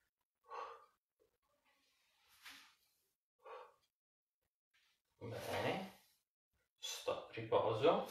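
During a posture exercise session, a person breathes audibly: soft, short exhalations and sighs at first, then longer, louder, rushing breaths near the end, close to the microphone.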